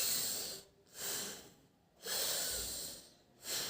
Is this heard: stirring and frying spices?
no